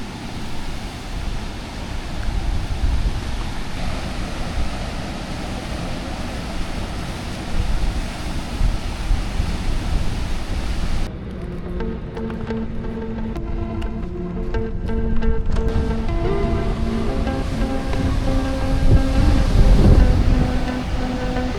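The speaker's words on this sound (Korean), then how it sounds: "파도도 거의 쓰나미급이다." Big ocean waves crash and surge near the Higashi-Hennazaki lighthouse on Miyakojima, Japan, a loud continuous roar of rough surf with heavy wind buffeting the microphone throughout.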